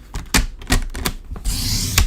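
A paper trimmer slices through card trimmed down to 9 1/4 inches, giving a series of sharp, close clicks and thunks followed by a longer hissing slide of the blade along the card.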